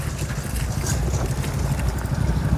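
A vehicle engine idles steadily at moderate volume as it arrives in a rural Marathi goat-grazing setting, a low continuous rumble throughout with faint background voices.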